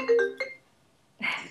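A phone ringtone gives a few short, steady electronic tones near the start, followed by a pause and a burst of muffled noise, heard indoors during a conversation.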